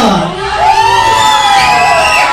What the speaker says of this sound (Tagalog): Ang Team Yellow, sigaw ng awu ang gusto manalo.